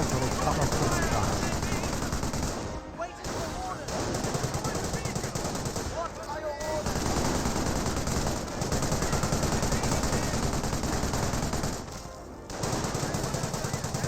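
Sustained machine gun fire and scattered gunshots in the Company of Heroes battle game, loud and dense with a few brief gaps, and a commentator talks over it.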